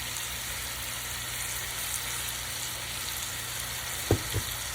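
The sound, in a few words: pork tenderloins frying in a pan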